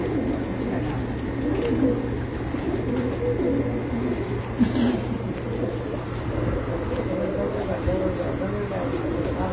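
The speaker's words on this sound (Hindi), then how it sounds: "ये एक टीटी कबूतर है" Soft, repeated cooing of TT pigeons on a rooftop loft, gentle bubbling calls close by over a low steady hum, with someone speaking intermittently.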